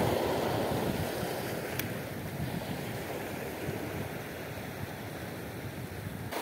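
Strong sea waves crash and roar steadily while someone fishes from the shore, a dense, continuous surf wash mixed with gusty wind buffeting the microphone and no voices.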